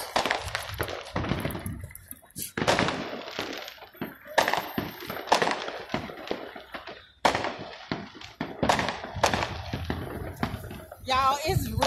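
Fourth of July firecracker bombs going off outdoors, a string of loud sharp bangs and cracks at irregular intervals, with people talking and reacting between and over the blasts.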